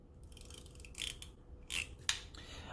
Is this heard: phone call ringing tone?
no